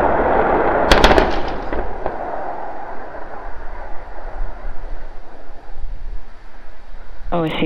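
SpaceX Starship SN9 explodes on landing with a sharp, loud blast followed by a few crackling aftershocks, then a lingering rumble and distant roar, with a brief burst of sound at the very end.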